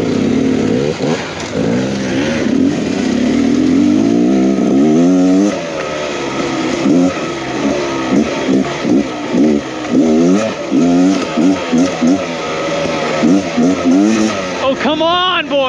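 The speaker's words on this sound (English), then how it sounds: "Riding on our brand new 2023 Beta." A brand-new 2023 Beta X Trainer 300 enduro motorcycle roars close by on an enduro ride, its engine loud and constant, pitch rising and falling with rapid throttle changes, then a sharp rev at the end.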